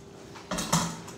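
A spoon stirring Italian seasoning into cheese in a bowl makes two close clinks and scrapes against the bowl in quick succession.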